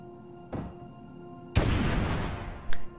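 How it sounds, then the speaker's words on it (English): Weapon explosions in the Space Engineers game: a short thump, then a loud booming blast with a long rumbling decay, followed by a brief sharp crack near the end, with a steady low hum underneath. "you do still get a slightly larger than normal explosion, about the size of that crater that you can see there"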